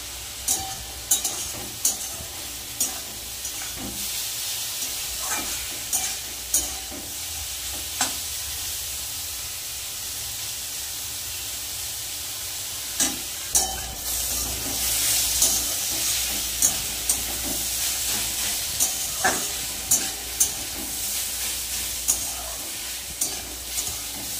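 Papaya lightly frying in a pan, a steady sizzle and hiss with regular sharp clicks of a spoon stirring against the metal, all fairly close and with no talking.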